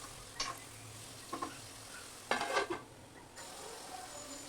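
Potatoes tipped into a pan of hot frying masala for egg biryani, with a few soft stirring scrapes and clinks over a faint steady sizzle.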